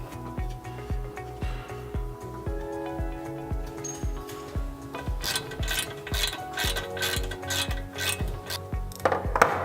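Ratchet wrench clicking rapidly while ball joint nuts are tightened on a Toyota Crown 180 suspension, with metallic ringing clanks and a quickening ratchet rhythm near the end, close and loud with no speech.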